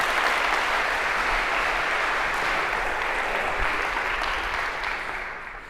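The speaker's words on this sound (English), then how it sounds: "A round of applause for our volunteers" A lecture-hall audience at a computer science class applauds volunteers coming on stage, a steady, dense round of clapping that holds even and then tapers slightly at the end.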